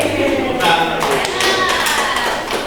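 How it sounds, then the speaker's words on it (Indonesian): Classroom group claps together, a few seconds of loud, fairly steady hand clapping from nearby with some talk mixed in. "Tepuk tangan lagi."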